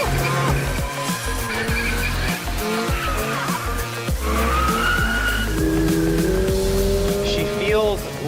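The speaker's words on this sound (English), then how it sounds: "now let's see if we can't drift this thing a little bit" A 2022 Subaru BRZ on sport tires drifts, its tires squealing and skidding loudly over a straining engine, with a voice talking through it.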